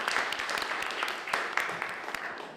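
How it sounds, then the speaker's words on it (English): An audience at a panel on the Salinas region applauds a speaker's introduction, dense steady clapping throughout with sharper individual claps standing out near the microphone. "Could we have a round of applause for Doug?"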